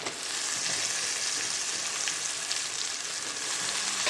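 Cluster beans (guar) cooking slowly in a spice masala, giving a steady, continuous frying sizzle at close range with no talking.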